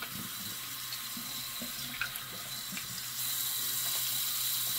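A bathroom tap runs cold water in a steady, hissing stream during a shave rinse, growing slightly louder partway through, with a few soft splashes and knocks.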